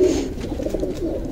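Pigeons kept by a keeper, flock recovering from a viral illness, coo steadily and close up in a low, continuous murmur with no talking.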